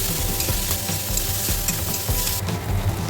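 Aubergine and potato frying and being stirred in a pan, a loud, dense sizzle with constant scraping and clinking of the spatula throughout, close by.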